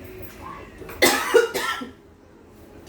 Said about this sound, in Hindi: हर बार खांसी शुरू हो जाता है।